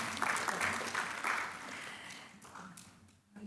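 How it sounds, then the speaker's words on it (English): Audience clapping at an awards ceremony, a moderate burst of applause that swells early then gradually thins and fades, with a few murmuring voices mixed in. "Yes, another clap."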